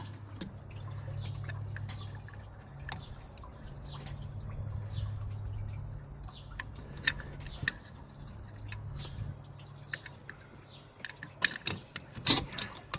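A hose clamp being worked off the thermostat housing of a 2021 Ram 2500 HEMI: quiet metallic clicks, drips and small handling noises over a faint low hum, growing sharper and louder near the end.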